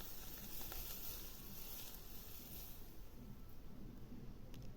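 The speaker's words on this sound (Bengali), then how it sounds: "গরম তেল এবার মশলাতে দিয়ে দেব আস্তে আস্তে করে দেব যাতে ছিটকে না পড়ে" Hot oil poured slowly over ground spices for Champaran handi mutton gives a steady, close hiss of sizzling that runs unbroken throughout, with no talk.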